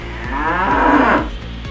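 An ox in an animated story lets out a single loud, drawn-out moo, close and clear, over a faint low background hum.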